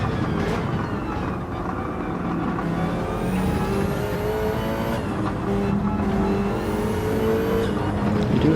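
A Subaru race car engine roars continuously in Gran Turismo 7, staying loud and close as the revs climb and shift through a corner, with other cars faintly audible around it.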